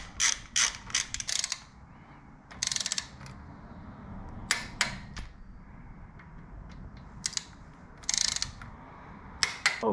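A ratchet wrench snugs bolts on a Shovelhead motorcycle oil pump, giving bursts of quick metallic clicks with pauses between them over a low background hum.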